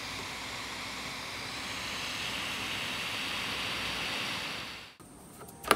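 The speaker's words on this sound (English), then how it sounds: "at full fan speed, it sounds like this" A GMKtec NucBox M3 mini PC with an Intel i5-12450H, pulling about 52 watts, runs its fan at full speed: a steady, close, airy whoosh for about five seconds that then cuts off abruptly.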